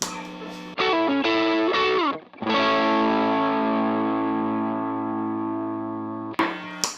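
Electric guitar played through a GT Overdrive pedal, a Tube Screamer-style drive: a few short distorted chords, then one loud sustained chord ringing out and slowly decaying, with a brief strum at the end.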